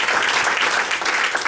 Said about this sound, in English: Round of applause for Dr. Raimondo